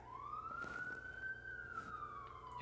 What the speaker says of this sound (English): I'm just talking about the siren